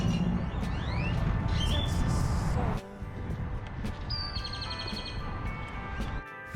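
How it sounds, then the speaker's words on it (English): Great-tailed grackles call loudly in Austin, Texas, with rising whistles and harsh chirps rising over a dense wash of city noise, first heavy, then thinner. "They're grackles and they are loud."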